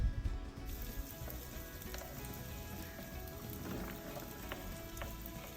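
Potatoes fry in a pan over a medium-high flame for an aloo beans sabzi, giving a soft, even sizzle that stays fairly quiet and steady throughout, with no voices.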